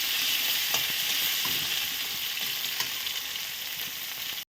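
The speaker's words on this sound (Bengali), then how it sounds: "শুকনো মাছগুলো এখন আমি ভালো করে ভেজে নেব।" Dried fish fry in hot oil with a loud, close, continuous sizzle that holds steady for several seconds. Faint stirring taps come through, then the sound cuts off abruptly.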